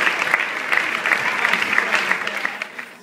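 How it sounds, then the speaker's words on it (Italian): A theatre audience applauds dancers at a performance festival in Turin, dense clapping with a few sharper claps standing out, fairly close and sustained before easing off. "Applausi alle danzatrici nude di Karen Levy"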